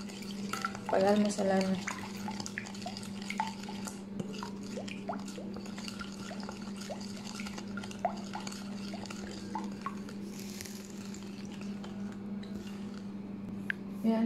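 Milk is stirred into batter for apam pancakes, with wet, sloshing stir sounds and small drips over a steady low kitchen hum, while someone talks briefly near the start.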